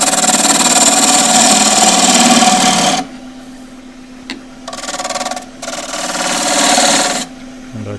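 Wood lathe spinning a fiddleback eucalypt display bowl, a loud steady mechanical whirr that drops away abruptly, then comes back in two shorter bursts with brief lulls between.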